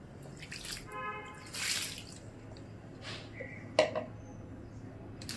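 Small splashes and drips of water poured a little at a time onto planted cuttings in pots, with soft irregular trickles and a sharper clink midway, quiet and close.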